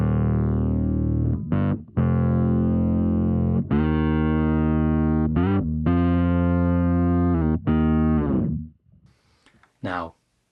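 Bass guitar through a Fractal Audio octave divider synth preset, a thick, buzzy, distorted synth-bass line of punchy notes with short gaps, loud and close, followed by a brief spoken word at the end.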